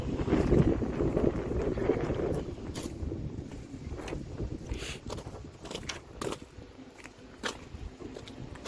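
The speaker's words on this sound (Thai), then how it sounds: "ลม แรงนิดหนึ่งเพื่อน" Strong wind blows outdoors in snowy Sweden, a steady rumbling roar with gusts that buffet the microphone, heaviest at the start, with no voices.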